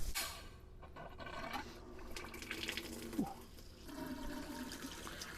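Water runs from an RV faucet through a newly installed Frizzlife SW10F drinking water filter, a soft steady rushing stream with faint splashing, fairly quiet and unaccompanied by speech.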